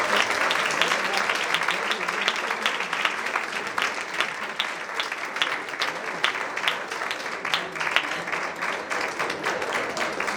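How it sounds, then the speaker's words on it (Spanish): Sustained audience applause after a lecture on family, university and business, a broad even wash of many hands clapping at moderate level, with faint crowd murmur beneath. "Un aplauso, por favor, para nuestro compañero."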